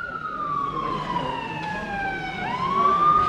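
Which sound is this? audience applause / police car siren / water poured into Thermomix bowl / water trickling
police car siren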